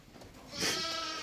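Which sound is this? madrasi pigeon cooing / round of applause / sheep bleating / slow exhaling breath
sheep bleating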